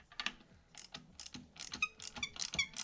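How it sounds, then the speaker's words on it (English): A ratchet turns over a Suzuki LTZ250 quad's engine by hand, giving quiet, close clicking pawl sounds and mechanical ticks in short irregular bursts. "I'll go ahead and turn the motor over so I can get both sides."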